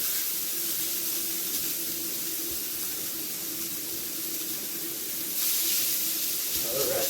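Freshly grated hash browns made from two potatoes sizzle steadily in a hot pan, a continuous close hiss that swells louder near the end.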